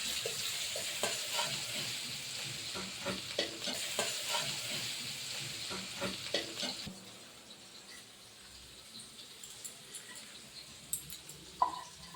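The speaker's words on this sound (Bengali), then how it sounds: "এবারে আমি পেঁয়াজের একটু বেরেস্তা ভেজে নেব" Onions frying into crisp birista for mutton kosha: a bright sizzle with rhythmic stirring scrapes for about seven seconds, then a quieter simmer with a few sharp knocks near the end, no voices.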